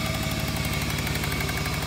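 A BMW E36 engine idles rough after an oil pan repair, with a steady, close mechanical drone and an uneven pulsing throb that runs continuously and loud.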